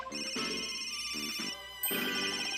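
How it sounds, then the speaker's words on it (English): A cell phone ringtone sounds in the Ace Attorney: Dual Destinies video game, a bright electronic melody that plays continuously and fairly loudly, with a brief dip before it resumes. "Where's that ringing coming from?"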